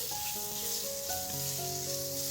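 Green chillies and spices, with amchur powder, fry in a pan on a low gas flame as they are stirred, giving a constant soft sizzle with faint steady tones behind it.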